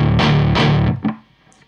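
Heavily distorted electric guitar plays a riff of two chunky strummed bursts and a short muted hit, loud and close, then a stop with fading ring.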